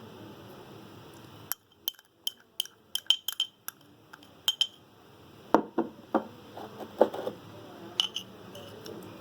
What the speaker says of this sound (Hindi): अब हम नमक और हरा धनिया, हरी मिर्च, जीरे का जो पेस्ट है उसको हम अब दही में मिक्स करेंगे